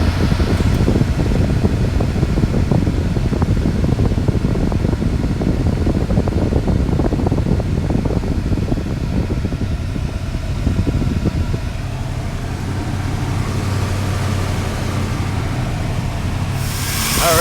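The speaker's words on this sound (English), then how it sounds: "Compressor's working." Running 1970 Dodge Monaco with a working air conditioning compressor and blower fan, a steady whooshing fan roar and engine rumble that eases into a lower constant hum, close and without talk.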